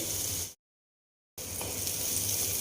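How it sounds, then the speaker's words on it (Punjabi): Tadka being tempered for langar-style dal in a home kitchen: a steady, close hissing sizzle, broken by a short silent gap, then resuming just as loud. "ਲਓ ਜੀ ਆਪਣਾ ਤੜਕਾ ਲੱਗ ਗਿਆ ਦਾਲ ਨੂੰ"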